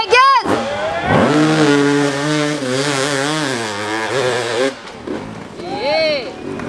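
An enduro motorcycle at an extreme enduro challenge in Limousin revs hard at full throttle, its engine pitch climbing and falling in repeated surges, then briefly pausing before another shorter burst, with shouting voices around it.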